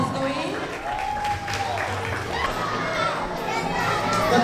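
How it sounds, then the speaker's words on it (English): Applause at a school award ceremony, mixed with lively children's voices and chatter, fairly steady and moderately loud throughout with a busy, crowded room feel. "Keep the applause going."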